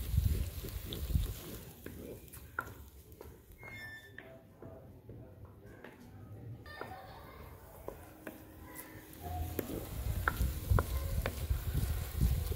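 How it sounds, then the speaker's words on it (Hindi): Garlic and ginger fry in a pan with a soft sizzle. Scattered clicks and scrapes from stirring run through the sizzle, and a person talks quietly at the start and end. "लहसुन और अदरक जो हैं वो भुन गए हैं"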